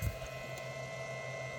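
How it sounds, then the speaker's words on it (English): A DC to DC battery charger runs aboard a 2017 Tracker Targa V18 WT boat, giving a faint, steady electrical hum and whine with a brief soft knock at the start. "Okay, that is a DC to DC battery charger."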